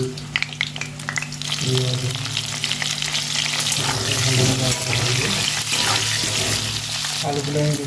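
Potatoes frying in oil in a kadai, a continuous loud sizzle with stirring and a tonal hum underneath, steady throughout with no talking.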